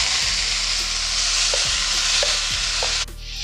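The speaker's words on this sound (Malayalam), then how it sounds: "എണ്ണ ചൂടായിട്ടുണ്ട് കടുക് ഇട്ട് കൊടുക്കാം കടുക് പൊട്ടിയിട്ടുണ്ട് നമ്മുടെ ഈ പീച്ചങ്ങ ഇതിലേക്ക് ഇട്ട് കൊടുക്കാം" Ridge gourd pieces added to hot oil with popped mustard seeds sizzle loudly and continuously, with a few soft stirring knocks and the hiss dropping slightly at the end, no talking.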